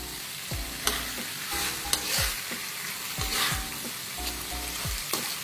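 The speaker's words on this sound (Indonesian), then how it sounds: "Kita masukkan dendengnya. Kita aduk pelan-pelan sampai merata." Beef jerky (dendeng) is stirred as it fries in a pan, with a steady sizzle under repeated scraping strokes of a utensil, close and moderately loud, with no voices.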